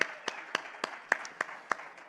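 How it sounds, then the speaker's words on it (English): Audience applause at a crypto festival talk, heard as sparse, evenly spaced claps at moderate distance rather than a dense ovation. "I'd like the whole house to give him a round of applause"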